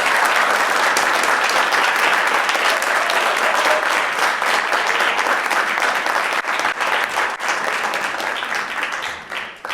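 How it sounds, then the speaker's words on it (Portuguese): An audience applauds as the first group is called to the stage at the closing of a science-communication hackathon, with loud, dense, steady clapping that tapers slightly toward the end. "Uma salva de palmas!"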